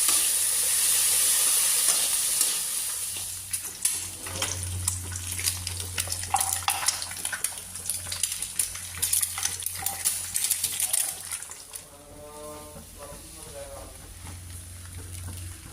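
Okra and bitter gourd frying in a pan for a curry, sizzling with scattered clinks and scrapes of a spoon stirring, while a person talks over it.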